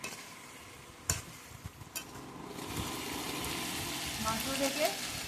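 Spice masala with salt is stir-fried for chicken biryani: a few sharp scrapes of a spoon against the pan come first, then a close, steady frying sizzle builds and holds to the end.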